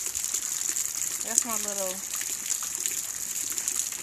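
Rain pours outside at night in a steady, close hiss that runs unbroken the whole time, with a short spoken phrase partway through.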